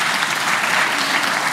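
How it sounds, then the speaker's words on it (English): An audience bursts into loud, dense applause, a continuous roar of clapping hands with no gaps. "A round of applause, everyone."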